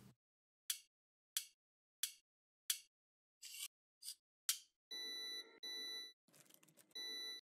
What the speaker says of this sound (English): my fridge alarm.